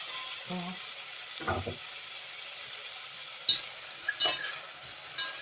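Onions and carrots fry on a stovetop in a pot for pork shurpa, with faint sizzling and a few short scraping stirs that come and go quietly and close by.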